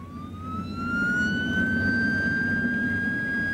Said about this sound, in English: If you call an ambulance,